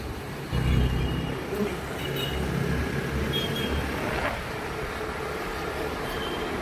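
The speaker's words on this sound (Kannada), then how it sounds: "ಇದು ರೈಲ್ವೆ ಸ್ಟೇಷನು ಬಂಗಾರಪೇಟೆ." Bangarapet railway station ambience: a continuous low rumble of trains and engines with a broad, steady background wash and no clear voices.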